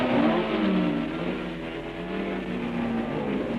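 1962 Formula 1 race cars at the French Grand Prix accelerating past the pits, a sustained engine whine rising and falling as the cars pass, moderately loud with a slight fade in the middle.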